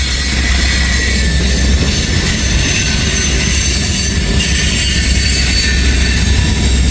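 A freight train of covered hopper cars carrying potash rolls by close and loud, with continuous wheel rumble and high metallic squealing from the wheels.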